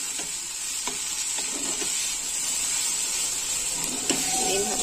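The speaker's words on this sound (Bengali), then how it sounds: "এইভাবে আরো 2 থেকে 3 মিনিট কষিয়ে নেব।" Spices and fish curry masala stir-fried in a pan for rui fish curry, a steady close sizzle with a bright hiss and occasional scrapes of the spatula, continuous and unbroken, without speech.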